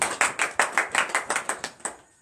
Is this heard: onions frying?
no